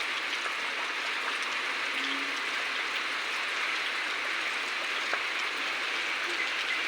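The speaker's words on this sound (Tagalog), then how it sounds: "Tuloy-tuloy pa rin yung ulan." Rain falling steadily and continuously, a broad even hiss of drops on surfaces with no breaks, moderately loud and constant throughout.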